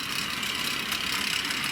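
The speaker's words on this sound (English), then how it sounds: "Now there is a bit more gear noise from this model." A Hornby Dublo model train runs slowly on tinplate track, its gearing giving a steady mechanical whirr and buzz that holds at an even level throughout, with no speech.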